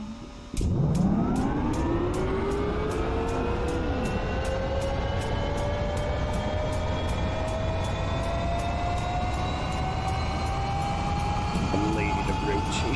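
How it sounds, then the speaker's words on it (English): A Huey helicopter turbine starts up with a rising whine that climbs in pitch and keeps building over steady rhythmic ticking. The engine is loud and close, and voices are heard faintly underneath. "We're gonna start this chopper"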